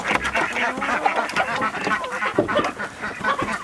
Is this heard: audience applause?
no